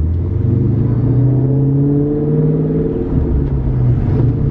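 Loud, continuous engine drone from a Magnum Trans car being driven, heard from inside the cabin, its pitch slowly rising and falling with throttle changes over a deep steady rumble.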